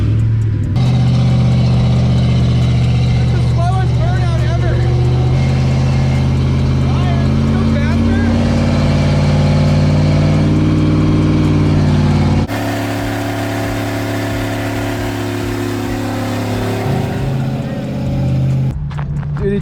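A Tesla-swapped Chevrolet C10 squarebody pickup doing a burnout, with a loud continuous electric-motor whine and tire roar that climbs in pitch and then drops off abruptly partway through.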